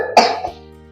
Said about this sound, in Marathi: मला खोकला लागलाय.